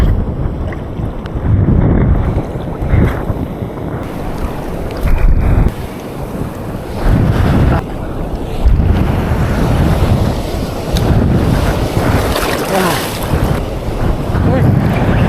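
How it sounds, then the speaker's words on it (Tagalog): Strong ocean waves churn and slap around a small fishing boat at sea, with heavy wind buffeting the microphone in loud, surging bursts that rise and fall in a rough rhythm throughout. "basang-basa na kami agad sa lakas ng alon"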